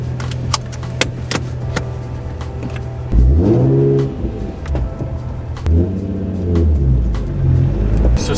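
A car on budget wheel spacers drives on a test run with a steady low engine and road rumble inside the cabin, rising in two revving surges, while small rattles and clicks come from within.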